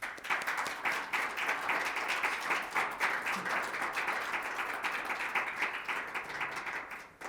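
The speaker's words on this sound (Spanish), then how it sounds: "Recibamos, por favor, a Juan Manuel con un aplauso." A room full of people applauds steadily to welcome a speaker at a poetry event, the dense clapping sustained and fairly close for about seven seconds before tapering slightly at the end, with no talk over it.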